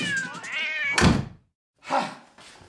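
A cat gives a loud, drawn-out rising meow, then a heavy thunk, and after a short silence another shorter meow-like cry, all close by.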